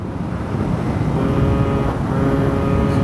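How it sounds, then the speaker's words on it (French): A tuned Peugeot Kisbee two-stroke injection scooter drones at speed, a steady loud buzzing engine note that holds near constant pitch with slight rises, alone without talk. "on est sur un Peugeot Kisby, 2 temps, préparé"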